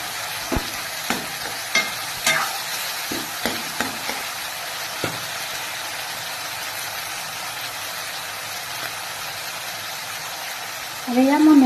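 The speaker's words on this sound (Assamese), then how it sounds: "প্ৰথমে মই চয়াবিনখিনি দিলোঁ এইখিনি মই অকণমান ভাজি ল'ম" Soybean chunks fry in a pan while being stirred, with scattered spoon scrapes and clacks over a steady low sizzle, and a short burst of louder noise near the end.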